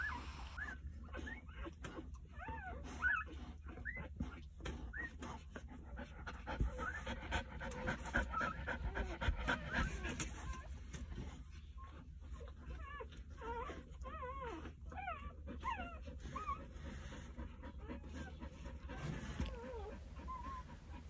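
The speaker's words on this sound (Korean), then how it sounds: "9마리 새끼 강아지들을 이렇게 품을 수 있다니 정말 또 감탄입니다." A Jindo mother dog pants steadily and quietly while her nine two-day-old puppies squeak and whimper in short high cries, close by, under a constant low hum across the whole stretch.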